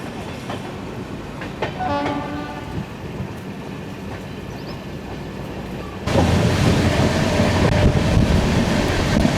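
A train pulls out of Khambhalia station in Gujarat with a steady, heavy rolling rumble that grows noticeably louder partway through.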